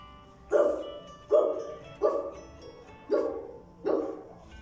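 Dog barking five times in an even rhythm, each bark loud and close with a short, sharp attack, separated by brief quiet gaps.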